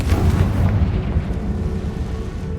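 A Confringo fire-blast spell explodes in the video game Hogwarts Legacy, a loud, dense rumbling boom that rolls on with a deep low roar and slowly fades over a couple of seconds, with no talking.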